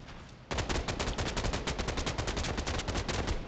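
Automatic gunfire in the video game FF7: First Soldier, a loud, rapid stream of evenly spaced shots that starts abruptly after a short lull and runs on without pause.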